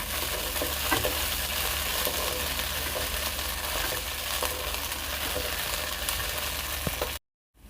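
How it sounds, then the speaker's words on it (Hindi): Green peas frying in hot oil, a steady dense sizzle that holds close and even for about seven seconds before cutting out abruptly, with faint stirring clicks underneath. "1 से 2 मिनट तक फ्राई करते रहेंगे इसको, ताकि जो इसका हरापन है वो ख़त्म हो जाए"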